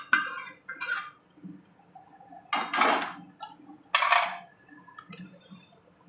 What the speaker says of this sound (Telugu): మొత్తం తాలింపు కూడా వేస్తాను.